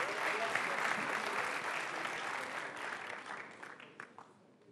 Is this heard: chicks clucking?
no